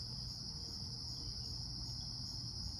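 Crickets chirp steadily outdoors on an evening, a continuous high trilling that stays soft and even throughout, with no voices or other sounds.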